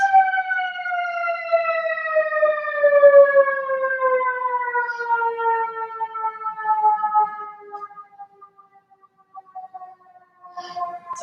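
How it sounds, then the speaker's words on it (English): An outdoor siren wails outside a house, a long tone sliding slowly downward in pitch with strong harmonics, fairly loud at first and fading toward the end, heard alone before a brief faint noise. "Sounds like it's outside my house."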